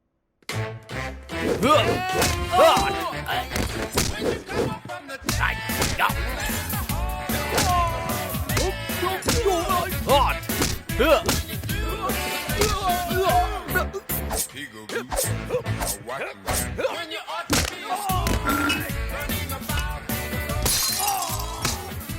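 Blows land in a Hindi-dubbed South Indian action movie fight scene, a dense, loud barrage of hits and crashes with breaking-glass-like impacts over score, with shouting voices throughout.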